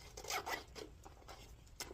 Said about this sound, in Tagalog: Leather naman siya. Ganda guys. May zipper siya.